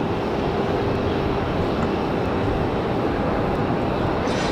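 A FedEx ATR turboprop at Raleigh-Durham International Airport gives a loud, steady, unbroken engine roar that holds level throughout.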